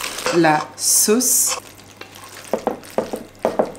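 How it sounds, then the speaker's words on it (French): Gratin ingredients are stirred together with sauce in a dish, giving a few soft scraping and sizzling bursts of stirring between pauses, with someone talking quietly over part of it. "Là, je vais tout mélanger avec la sauce."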